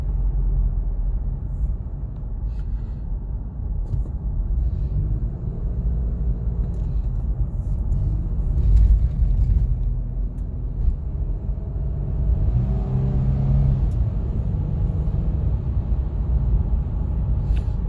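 A 2007 Nissan Xterra with a transmission cross-contamination fault drives along, its engine and road noise forming a steady low rumble heard from inside, with slight swells as it shifts through gears.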